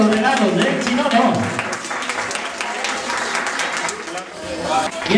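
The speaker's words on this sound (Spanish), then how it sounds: "a ver esos aplausos para el Papá Noel, que se lo merece" An audience claps loudly for Santa Claus at a Christmas show, a steady wash of applause that starts at once and runs throughout, with a voice talking over it.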